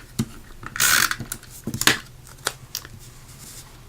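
A small handheld tag punch for papercrafting works through cardstock with a few sharp mechanical clicks and crunches, close and fairly loud, with a burst of crinkly paper rustle between the snaps.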